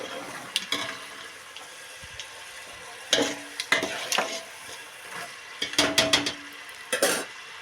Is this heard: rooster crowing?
no